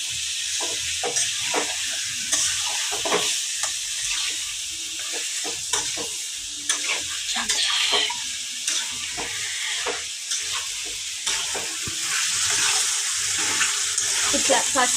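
Chicken with turmeric and salt cooks over a high flame for biryani, a close sizzle broken by stirring scrapes and splashy bursts, steady with uneven clatters.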